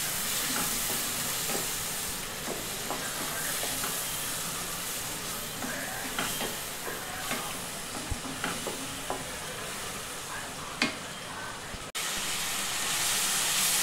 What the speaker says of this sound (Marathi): हा वाटून घेतलेला मसाला आहे तो टाकते. थोडं चांगलं आता परतून घ्यायचं.